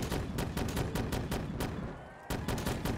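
Repeated shotgun blasts in a Call of Duty Zombies gun game map, a steady series of loud, evenly spaced booming shots with a short lull before firing resumes, no talking.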